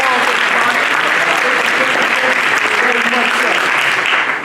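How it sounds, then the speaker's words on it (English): Audience applause for Sister Nancy Grier at a Kwanzaa Umoja celebration in Paterson, loud sustained clapping from a room of people throughout, with voices mixed in. "Miss Nancy Grier, let's give her a round of applause."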